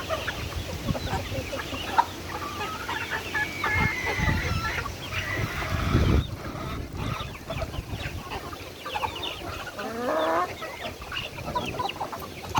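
Native chickens on a farm cluck and murmur close by, with scattered calls from the flock and a busy ambient backdrop of fowl activity throughout.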